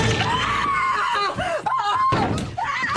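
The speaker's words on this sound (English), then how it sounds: "This is a long scream." A long, drawn-out scream made as a Foley effect wavers and bends in pitch over several seconds, broken by short gasping breaks and shifting into strained, shrill cries near the end.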